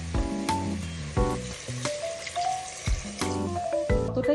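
Water from the marinade bowl is poured over sizzling mutton in a pressure cooker. Loud bursts of hissing and bubbling come in several surges with spluttering and dripping between them, close by and with no talking.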